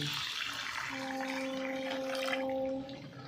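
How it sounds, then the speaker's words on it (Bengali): Water used to rinse the spice bowl being poured into butter chicken cooking in a pan, a steady liquid splash and sizzle lasting about three seconds with a faint tonal hum running through the middle before it fades. "আমি মশলা ধোয়া জলটা দিয়ে দিচ্ছি"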